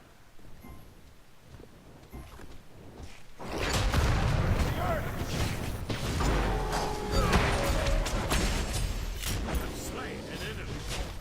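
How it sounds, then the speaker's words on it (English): Agni's meteor ability striking in the video game SMITE: a heavy booming impact arrives a few seconds in, followed by a loud, sustained wash of crashing and rumbling battle effects. "Saw that teleport come out, so I shot the meteor where he was going to land."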